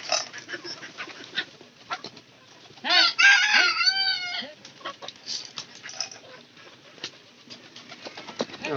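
A rooster crows loudly once in the middle, surrounded by steady clucking and scratching from a flock of chickens nearby.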